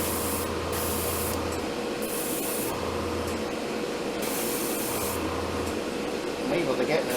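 An airbrush sprays paint into the interior of an Academy SBD-5 Dauntless scale model aircraft, giving several close, steady hissing bursts separated by short pauses.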